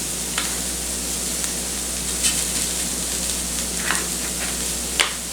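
Minced garlic sizzles steadily in a hot skillet while making slow cooker chili, a constant frying hiss with a few scraping stirs and taps of a utensil against the pan.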